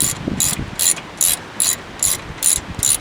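A ratchet wrench snugs 13/16 brake caliper bolts on a third-generation Dodge Ram, about eight quick bursts of ratcheting clicks in a steady back-and-forth rhythm, close and crisp, with no talk.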